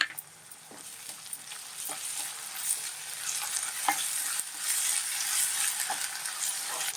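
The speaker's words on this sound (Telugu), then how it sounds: "అల్లం వెల్లుల్లి పేస్ట్ వేపుకోవాలండి" Ginger garlic paste sizzles steadily with mutton pieces in a hot pan for an egg and mutton curry, with occasional clinks and scrapes of a spoon stirring against the metal.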